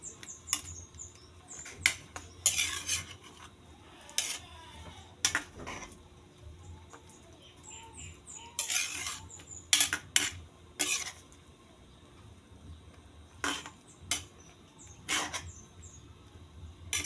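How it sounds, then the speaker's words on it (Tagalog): A spoon stirs a pot of boiling mixed vegetables, sharp metallic clinks and scrapes arriving in irregular bursts over a quiet bubbling background. "Ayan, kumulo na, haluin ko."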